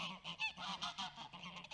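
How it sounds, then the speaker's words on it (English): Geese honk close by in a quick, uneven series of loud, nasal calls that overlap within a couple of seconds. "Geese are going off"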